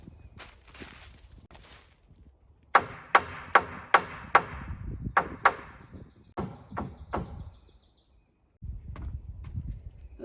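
Sharp hammer blows ring out one after another at a steady pace while a 12x16 shed is built from dumpster scrap lumber, followed by a few softer knocks and some light rustling between them.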